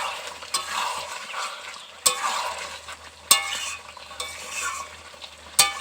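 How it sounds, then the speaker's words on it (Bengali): Meat curry with malabar spinach stems stirred in a pan, a steady close sizzle of frying broken by sharp spoon scrapes and clanks against the pan at irregular intervals, with no voices. "একটু নাড়াচাড়া করে দেবো।"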